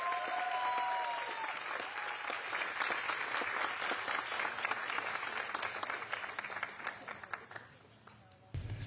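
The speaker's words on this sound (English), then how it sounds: "So please, warm round of applause for Miracle Chapman, Dr. Lee June, and Sarah" A crowd at a university multicultural center groundbreaking ceremony breaks into warm, sustained applause, dense at first and gradually tapering, with a voice briefly audible early on before it cuts off.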